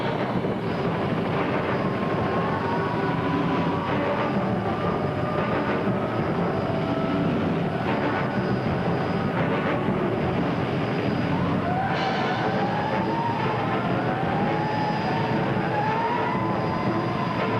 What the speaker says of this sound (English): Helicopters arrive and prepare to lower rescuers to the balconies.